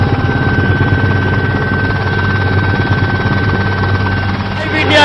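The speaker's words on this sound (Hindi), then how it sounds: "वेल्लाचेरी में हम कोस्ट गार्ड के हेलीकॉप्टर में उड़ रहे थे" A Coast Guard Chetak helicopter in flight over flooded Chennai, heard from inside the cabin as a loud, steady rotor chop and turbine whine filling the whole stretch.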